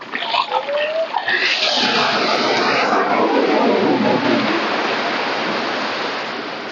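Sea waves break and wash along the shore near Ponnani lighthouse in one loud, rushing surge that builds and slowly fades, after a brief moment of voices.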